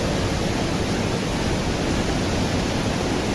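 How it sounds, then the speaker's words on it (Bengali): Kempty Falls waterfall in Mussoorie roaring close by, a loud dense unbroken rush of falling water that fills the whole clip. "হেভি লাগছে ঝর্ণাটা এখানে।"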